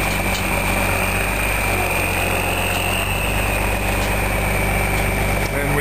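A military M108 crane truck's engine idles with the throttle pulled out slightly, a loud, steady low rumble with a constant whine running throughout.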